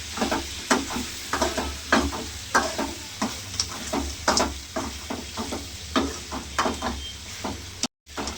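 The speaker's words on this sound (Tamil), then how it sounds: "எண்ணெயிலே தான் அது வேகுது காடை." Quail pieces frying in a pan full of oil with turmeric, a steady close sizzle broken by rhythmic scraping stirs roughly every half second, with a short dropout near the end.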